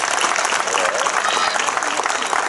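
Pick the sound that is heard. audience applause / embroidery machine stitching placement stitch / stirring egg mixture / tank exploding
audience applause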